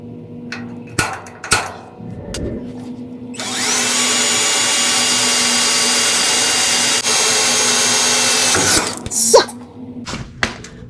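Power drill boring with a 1/8 inch bit through a rear shock mount on a Ford F1 truck: one loud, steady drilling run of about five seconds, framed by clanks and handling noises before and after.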